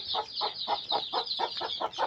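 Free-ranging desi chickens, hens and a flock of chicks, in a Konkan village backyard poultry yard give steady, rhythmic clucking and peeping, close by, repeating about four times a second.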